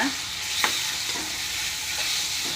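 Mango thokku mixture is stirred in a pan with a spoon, giving a soft continuous sizzle and a few scraping strokes close by, with no voices.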